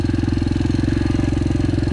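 A Yamaha TTR 125L four-stroke motorcycle engine revs close and loud, its rapid, even pulsing firing beat filling the whole short stretch with no voices.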